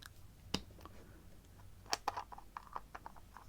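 An ink bottle lid being opened makes a few soft, close clicks and light taps, very quiet, with gaps between them.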